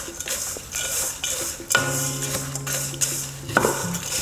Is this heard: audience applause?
no